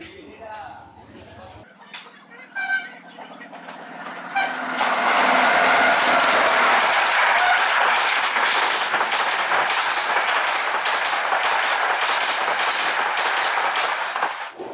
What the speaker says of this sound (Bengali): এই যে দেখেন ট্রেনটা প্রবেশ করছে